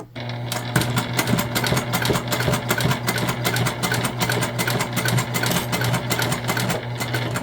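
A sewing machine labors through vinyl on a tote bag, running steadily with a rapid mechanical stitching rhythm and a low hum, close and loud, no talk.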